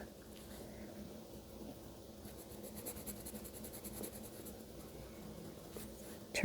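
Colored pencil strokes across paper, layering red over a drawing, make a close, steady scratchy rubbing with quick back-and-forth rhythm and brief pauses as the pencil turns.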